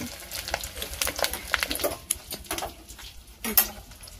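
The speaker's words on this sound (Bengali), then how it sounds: "এই যে মাছের ডিমটা পটপট করে ফুটছে" Fish roe frying in mustard oil in a village kitchen, crackling and popping in quick irregular bursts close by, with a sharp louder pop toward the end.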